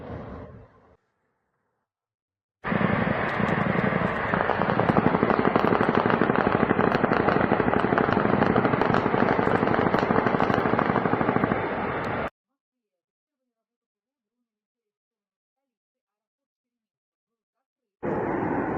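An attack drone nicknamed 'moped' flies over Moscow during an air-defence alert. Its engine makes a loud, continuous, rasping buzz for about ten seconds, then cuts off abruptly, with a brief burst of the same sound at the end.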